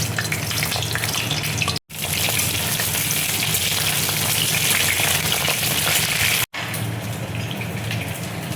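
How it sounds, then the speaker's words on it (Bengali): Pieces of pointed gourd (potol) fry in hot mustard oil in a kadai, a loud, continuous crackling sizzle broken by two brief cuts of silence. "এবার আমি পটলগুলো তেলের মধ্যে দিয়ে দিচ্ছি।"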